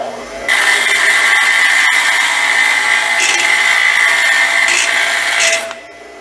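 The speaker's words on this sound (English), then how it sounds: "We're gonna put her right here on the grinder, spin that right there." A bench grinder grinding down two nuts jammed together during work on a 1940 Chevy coupe, a loud continuous high grinding whine lasting about five seconds before it cuts off.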